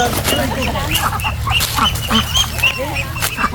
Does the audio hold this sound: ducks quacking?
yes